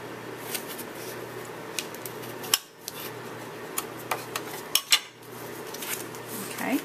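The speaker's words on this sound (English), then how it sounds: "I'm just going to go ahead and use my bone folder to fold my card in half." Card stock being creased in half with a bone folder, a few close, crisp scraping and tapping strokes with sharp clicks at intervals over a steady low room hum, no talking.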